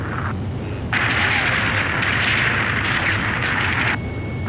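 A missile launched and exploding in the Ace Combat 5 jet combat game, a loud sustained roaring blast lasting about three seconds over a constant background rumble, with no talking.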